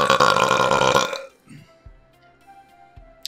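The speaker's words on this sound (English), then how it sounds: "That was like the most flavorless beer burp I've ever had in my life." A long, loud, rumbling burp after drinking Creemore Mad & Noisy Lagered Ale lasts about a second, close to the mic, then gives way to quiet breaths and small mouth sounds.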